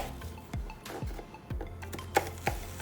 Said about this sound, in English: So first we're gonna go still point down on your knife and just do some slices